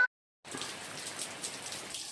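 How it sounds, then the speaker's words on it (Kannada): Rain falls on a paddy nursery bed in a home courtyard, a dense, even patter that starts abruptly after a moment of silence and continues steadily with no talking. "ನಮ್ಮದೆಲ್ಲ ಕೆಲಸ ಆದಮೇಲೆ ಮಳೆ ಬಂದಿದೆ"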